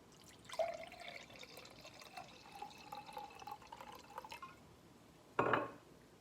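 Homemade ginger beer is poured into a glass, a soft trickle of liquid building over several seconds, followed by one sharp knock near the end.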